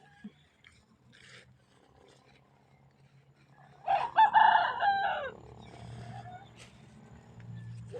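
Chicken calling close by in a quiet outdoor setting, giving one loud burst of crowing-like clucks midway, with faint background rustle and low hum around it.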